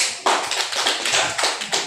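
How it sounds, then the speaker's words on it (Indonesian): Seminar audience on saving money claps for just under two seconds: a short, dense burst of hand clapping that starts abruptly and stays loud and close throughout. "Tepuk tangan Bapak Ibu"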